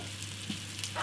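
Lamb shanks sear in a hot pan over two burning rings, giving a faint, steady sizzle with a low background hum and no talking.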